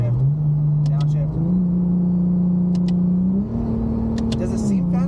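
A Nissan R34 Skyline heard from inside the cabin as the driver downshifts. A steady engine drone jumps up in pitch twice as the revs rise with each lower gear, and the engine hums on between the shifts.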